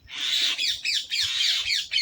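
Parrots squawk outdoors under dark, rain-heavy clouds, giving harsh, raspy calls in a rapid run of overlapping bursts that carries on without a break. The calls are fairly loud and near, and no one speaks.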